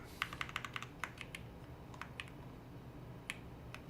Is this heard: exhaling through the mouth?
no